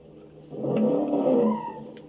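A 1964 truck engine in the BeamNG driving game swells as it accelerates, a loud, close mechanical drone that rises and holds for about a second before easing back.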